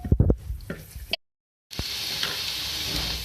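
Onions fry in oil toward light golden for an egg korma, with a few stirring clatters at first, a brief silent gap, then a steady close sizzle.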